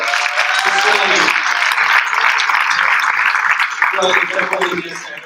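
An audience at a Cincinnati mayoral debate applauds for Cincinnati Landmark Productions, a dense burst of clapping and cheering that carries on for several seconds before tapering slightly.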